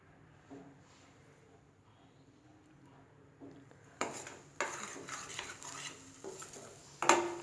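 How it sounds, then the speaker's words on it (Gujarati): Amaranth flour being stirred and roasted in ghee in a pan, with soft scraping at first, then from midway a steady run of louder spoon-on-metal clinks and scrapes, close by and with no voices. "ધીમે ધીમે રાજગરાને શેકીશું."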